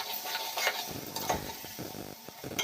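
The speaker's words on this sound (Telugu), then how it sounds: "కొంచెం బాగా వేగాలండి ఉల్లిపాయలు." Onions fry in a pressure cooker pot while being stirred: a soft sizzle runs beneath scattered scraping and clinking strokes from the spoon against the metal.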